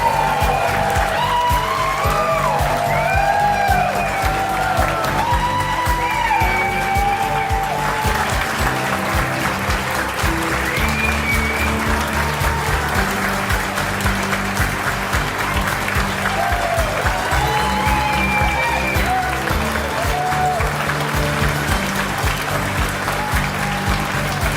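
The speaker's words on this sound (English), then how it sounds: "Please join me in a heartfelt applause" A gala audience claps steadily and loudly for a lifetime achievement award at the Writers & Illustrators of the Future 2025 event, a dense, sustained ovation with no break.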